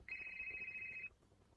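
A phone rings with an incoming call: one sustained electronic ringtone tone lasting about a second, clear and moderately near, with no talking.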